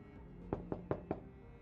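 A door in the video game Vampyr is knocked four times in a steady, even rhythm. The knocks are crisp but fairly quiet over a low ambient hum, and no one speaks.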